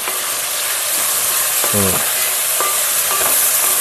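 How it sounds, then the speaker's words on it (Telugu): A Telugu-style fish curry sizzles in a pan while it is stirred, giving a steady bright hiss with a couple of scraping strokes and a brief tonal clink partway through. "అడిగంటకుండా ఇలా కొంచెంసేపు 1 నిమిషం ఇలా తిప్పుకుంటే చాలు, మగ్గిపోద్ది"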